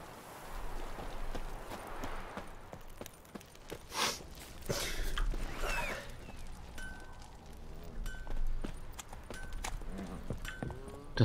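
Steady clip-clop of horse hooves walking in The Witcher 3: Wild Hunt, with a few louder bursts of other game sounds in between.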